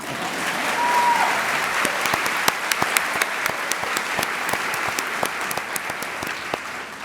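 An audience at a talk event breaks into sustained applause for librarians, a full, loud, even roar of many hands clapping that continues throughout with scattered sharper claps standing out.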